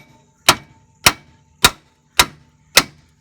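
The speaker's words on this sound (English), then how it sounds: "your BFE hammer and hit right about in here" Five loud, sharp metallic hammer strikes on a 2002 Honda Civic tie rod at an even pace about half a second apart, each ringing briefly before fading into quiet.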